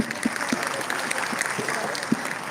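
Scattered applause from a conference audience at the Smart Cities Morocco Roadshow closing on a university campus, soft and fairly distant, with a few sharper claps standing out over a steady patter.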